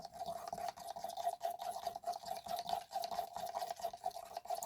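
A brush or stick stirs acrylic paint for a coral and blue mandala in quick, rhythmic scraping strokes, faint and close, with no talk over it.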